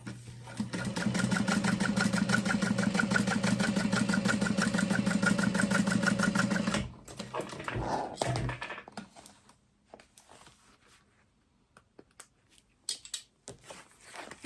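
An electric sewing machine top stitches a fabric binder cover, running in a loud steady whir for several seconds before stopping, followed by quieter handling noises and a voice.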